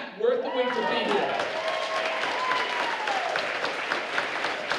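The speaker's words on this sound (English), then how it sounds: "since we're clapping" Audience applause fills a school jazz concert hall, steady and dense for several seconds, with whoops and a voice rising over the clapping at the start.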